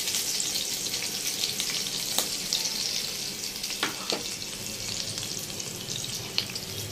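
Spices crackle and sizzle in a little hot oil for a pasta dish, a dense continuous frying hiss close up with a few sharp clicks of stirring, no talking.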